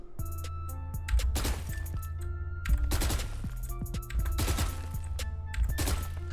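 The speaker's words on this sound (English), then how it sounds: "So this is shooting with counter strafing." Bursts of rifle gunfire in Valorant while counter-strafing, short volleys of rapid shots separated by brief pauses and footstep movement, loud and close with game sound effects.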